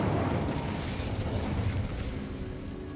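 The Incendio fire spell is cast in Hogwarts Legacy, a loud, roaring burst of flame with a boomy, eruptive low end that fades gradually over about three seconds, with no voices.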